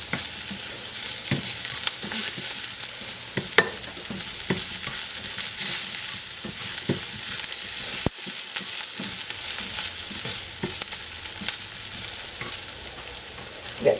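Onions fry in a pan with a steady, dense sizzle while a utensil stirs and scrapes them, giving occasional louder clacks against the pan over the constant crackle.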